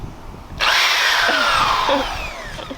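A new corded power drill whirs up suddenly and runs steadily at high speed, loud and close, its pitch dipping slightly as it bites into material.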